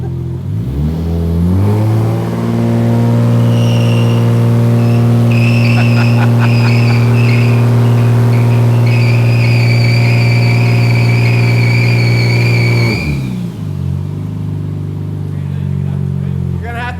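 A 1JZGTE-powered LJ Holden Torana holds a loud, sustained high rev for several seconds with tyre squeal layered over it, then the revs drop away to idle; voices are heard briefly.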